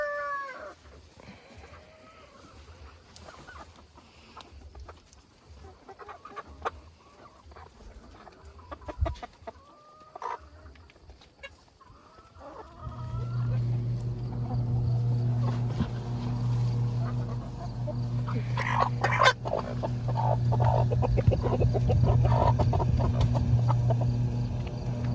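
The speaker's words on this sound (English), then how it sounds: "buff Orpingtons are the best at eating scraps" Buff Orpington, speckled Sussex and Americana chickens feed on scraps, first with scattered clucks and pecking, then a louder stretch of steady flock clucking and rustling.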